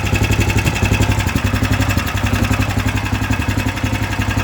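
A 1988 EZGO golf cart fitted with a Predator 420 engine runs at a steady loud idle, its single-cylinder chug pulsing evenly and close.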